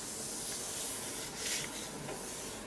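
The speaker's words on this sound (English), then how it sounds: "Burnish it on with your fingers to start off with." Fingers rub a laser print face down onto a gel printing plate, producing a soft, continuous close-up rubbing hiss with slight swells as the pressure shifts.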